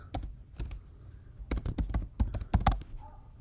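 Fingers typing on a computer keyboard in short bursts of rapid clicks separated by brief pauses, close and clear with no talking.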